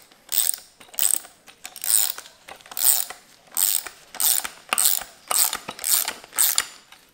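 Ratchet wrench tightening the counter bolt of a coil spring compressor while fitting H&R Super Sport springs to a BMW F30 340i, a regular run of about ten loud, close ratcheting bursts with short pauses between strokes.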